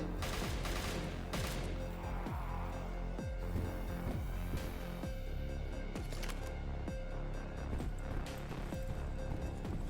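Rapid gunfire from the video game Death Scourges XXL, a dense barrage of repeated shots over a continuous loud backdrop of game sound.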